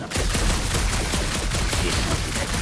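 Sustained rapid gunfire from a weapon in the video game Guardians of the Galaxy, a dense, loud continuous burst of shots with no pauses.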